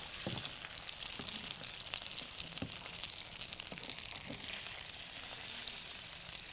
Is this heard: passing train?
no